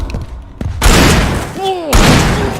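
Two heavy booming shotgun blasts go off in the Alan Wake video game, each with a long rumbling tail, and the in-game sound effects and a player's voice are mixed in around them.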